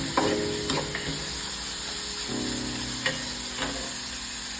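Onions frying in a pan for cabbage pathil, a steady close sizzle with a few sharp scraping strokes of a stirring spoon spread through, no voices.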